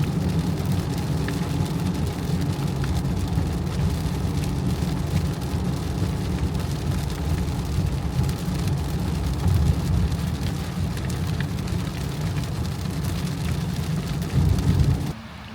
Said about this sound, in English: the rain is still coming down here in Portsmouth, New Hampshire